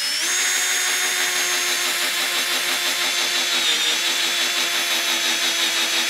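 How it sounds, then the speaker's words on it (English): A power drill whines steadily and close, a continuous high-pitched motor drone boring into wood at a 45-degree angle for a carpenter bee trap, with no pauses and no talking. "And drill."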